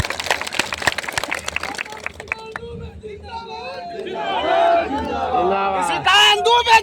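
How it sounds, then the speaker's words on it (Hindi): A crowd at a political rally claps for MP Nishikant Dubey, a burst of dense applause over the first couple of seconds that gives way to an amplified voice speaking over murmuring chatter. "जोरदार ताली बजाओ निशिकांत दुबे जी के लिए"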